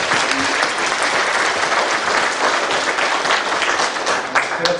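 A church congregation gives the choir a loud round of applause, with dense, continuous clapping filling the room at a steady level from start to finish.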